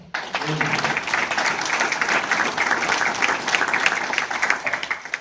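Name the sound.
audience applause at a hall of fame ceremony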